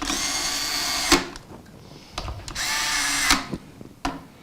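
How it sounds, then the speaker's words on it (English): Electric screwdriver with a low clutch setting tightening screws on an SSD enclosure: two whirring drive runs, each ending in sharp clutch clicks, followed by a few separate ratcheting clicks, close and with no talking. "I normally wouldn't tighten this with the electric driver, but I've got the clutch set pretty low"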